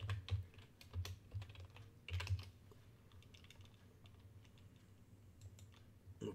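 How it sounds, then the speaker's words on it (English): Someone types a stock ticker on a computer keyboard, producing quiet, irregular bursts of clicking keystrokes with short pauses and no talking. "Let's go ahead and type this ticker in."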